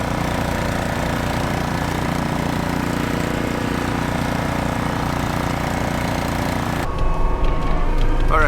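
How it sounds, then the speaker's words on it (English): A snow blower engine runs at a steady, loud, droning roar during a deep-snow storm, then the sound shifts abruptly near the end, turning rougher and more open. "this blower here is a beast"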